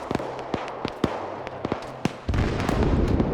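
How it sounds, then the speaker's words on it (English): Gunfire in a military video game: a series of separate sharp shots at an uneven pace, then a denser, louder burst as a magazine is emptied, close and without talk. "I could try mag dumping it too."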